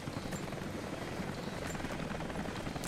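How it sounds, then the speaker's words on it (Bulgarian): Helicopter in the video game Rise of the Tomb Raider, a steady low rotor drone holding evenly throughout at a moderate distance, with no speech. "Пак ли то хеликоптера?"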